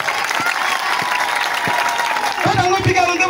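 A rally crowd claps steadily throughout, a dense patter of many hands close by, with a voice rising over the applause near the end.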